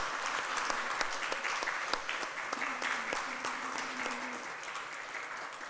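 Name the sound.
church congregation applauding to welcome elders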